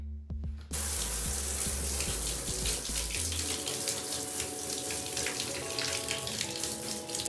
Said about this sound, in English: The first thing we're going to be doing is rinsing down with lukewarm water just to get all the leaves wet.